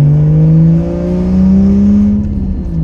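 A turbocharged Toyota Supra engine roars loudly and steadily at close range. The pitch climbs slightly as it revs and holds a heavy, droning exhaust note throughout, with no voices.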